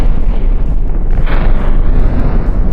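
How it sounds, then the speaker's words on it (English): A missile exploding next to an AI vessel in the naval combat game From the Depths, a loud, sustained low boom with a rumbling burst, no talking. "Oh, that was a missile right next to our AI."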